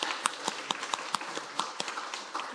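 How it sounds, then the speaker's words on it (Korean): Church congregation clapping during a Sunday worship service, a sparse, uneven patter of hand claps at moderate distance with a few sharper individual claps standing out. "이런 마음을 담아서 한번 박수하겠습니다."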